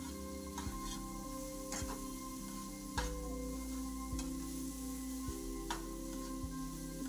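Chhana and butter stirred in a frying pan, a steady sizzle with soft scraping strokes and occasional spoon taps against the pan, close and continuous under a faint background hum, no talking.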